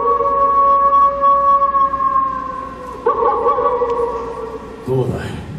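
At a live monster rock and roll stage show at Universal Studios Japan, a performer's voice imitates a werewolf howling at the moon: a loud, sustained, wavering howl that shifts partway through and ends in a noisy burst.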